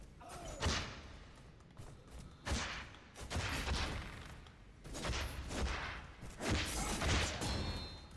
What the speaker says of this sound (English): I just realized there's sound effects when I hit people. Pop, pop, pop, pop, pop.